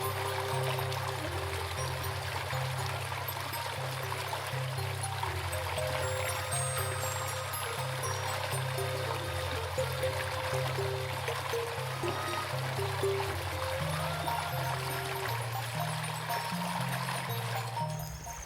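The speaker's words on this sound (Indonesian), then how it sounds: "Arusnya agak sedikit lumayan mengagetkan yang sebelah sana." River current rushing steadily at a three-way river junction deep in Sumatran tropical forest, a continuous broadband wash with a low rumbling churn running unbroken and fairly close throughout.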